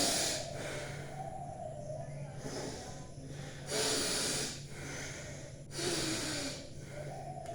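Forceful bhastrika pranayama breathing during a Patanjali yoga session, with three loud, broad rushing breath bursts standing out over a steady low hum and softer continuous breathing.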